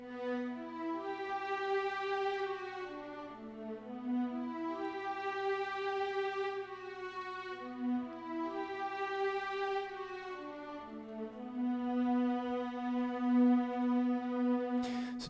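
A synth string patch plays a slow, sustained melodic sketch in the style of a Secret of Mana theme, with layered held notes and gentle swells running steadily throughout, no voices.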